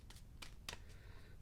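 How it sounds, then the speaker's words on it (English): Tarot cards being shuffled, with three or four quick papery riffles spaced through a short, quiet stretch. "And since I just simply like shuffling, I'm going to do it one more time."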